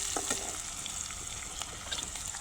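Green chillies frying in hot oil for kadhi, a steady close sizzle with small crackling pops throughout, with no talking.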